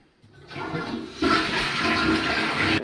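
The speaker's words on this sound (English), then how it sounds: "flush the potty" A toilet flushes nearby and loud. The water rushes and swirls steadily for about two seconds and then cuts off. No one speaks.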